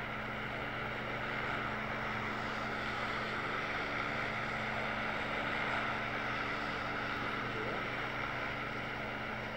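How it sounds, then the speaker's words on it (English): A steady engine drone from an aircraft passing overhead in PUBG Mobile, a constant mid-level hum with even tones that neither swells nor fades over nearly ten seconds. "it's just a passing helicopter, a plane"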